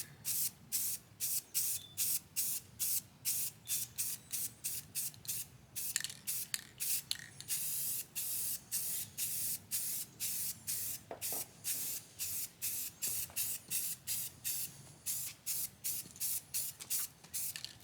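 Rust-Oleum spray primer hisses from an aerosol can onto the bumpers of a 1977 Camaro Z28, coming in steady rapid bursts of short sprays with brief gaps, close and alone with no talk.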